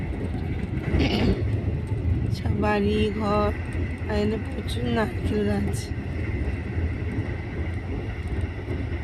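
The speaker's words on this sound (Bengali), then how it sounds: "কিন্তু ট্রেনটা প্রচুর জোরে যাচ্ছে" Fast-running passenger train, heard from inside as a steady low rumble and rattle under continuous close talking, with a brief whoosh early on.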